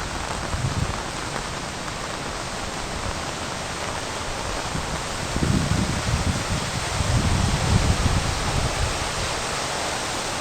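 Steady broadband rush of water, a stream swollen by overnight rain flowing nearby, with a slight swell in loudness midway; no voices.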